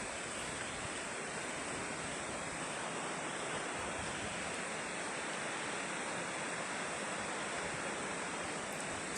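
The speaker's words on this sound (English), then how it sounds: "There's a river on both sides of us right now." A river flowing beside a hiking trail in Vermont, with water on both sides: a steady, dense rush of flowing water that holds an even, close level throughout, with no voices.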